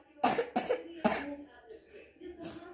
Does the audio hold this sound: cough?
yes